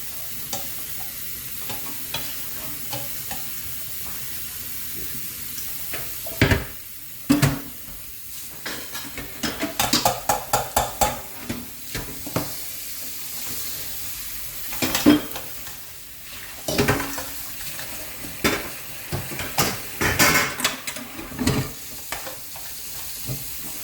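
A spoon stirs and scrapes chicken and broccoli alfredo in a sizzling pan, with steady frying hiss underneath and a run of irregular scraping strokes growing busier in the second half, close and moderately loud.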